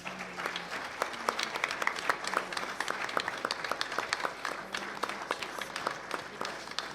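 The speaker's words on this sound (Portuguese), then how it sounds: "Vamos aplaudir o Senhor Jesus" A church congregation claps steadily during a worship service, a continuous patter of many hands at moderate distance, fairly soft but sustained, with a faint voice now and then.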